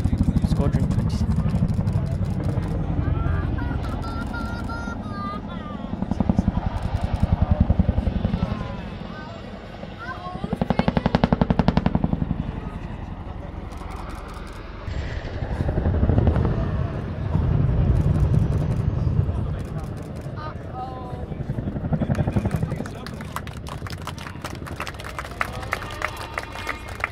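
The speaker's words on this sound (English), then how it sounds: "a fantastic display from the Boeing Chinook" Boeing Chinook twin-rotor helicopter flying a display at the Battle of Britain air show, a loud rumbling drone that swells and fades as it passes, with crowd noise around and talk over parts of it.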